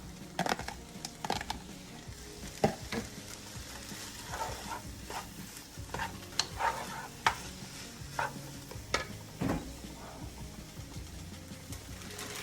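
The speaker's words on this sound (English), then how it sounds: "now I'm gonna add the kale that I pre-washed" Kale being added and stirred into lentil soup in a pot, producing soft, irregular scraping and rustling strokes with occasional sharper clicks of the spoon, faint and close, over a low simmering hiss.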